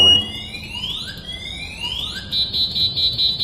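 An anti-theft alarm on a Joyor electric scooter sounds close and loud, with rising electronic siren sweeps that repeat and then settle into a steady high tone.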